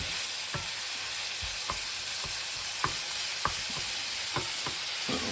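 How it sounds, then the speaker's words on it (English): Food frying in a worn pan before onions go in, holding a loud, steady hiss of sizzling oil broken by regular soft spatters or stirring knocks, with no voice. "so basically you leave that fry a little bit before adding in your onions"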